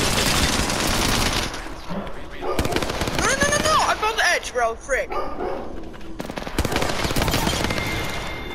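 Rapid bursts of automatic gunfire crackle through an online squad shooter game, dense volleys that stop and resume, with players talking over the shooting.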